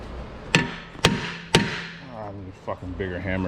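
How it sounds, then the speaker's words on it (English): Three sharp metal hammer blows at even intervals on the rear brake parts of a 2010 Infiniti FX35 during a rear pad and rotor replacement, loud and close, followed by a man muttering. "I need a fucking bigger hammer."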